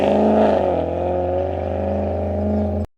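A car engine rumbles steadily at a low pitch, then the tone rises and shifts as it accelerates away before cutting off abruptly, close and loud with no voices.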